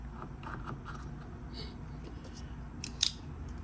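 Scissors snip through excess 550 paracord with one sharp, close cut near the end, following faint handling noise.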